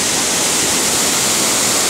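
A waterfall rushes loudly and steadily, a dense close-up hiss of falling water that never lets up, with no voices over it.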